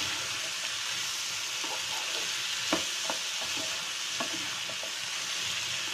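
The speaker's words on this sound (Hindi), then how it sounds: "और इन सारी चीज़ों को अच्छी तरह से हाई फ्लेम पर मिक्स कर देंगे।" Cucumber sabzi with soy sauce and green chili sauce stir-fried on high flame, a steady close sizzle with a few soft spoon knocks and scrapes against the pan.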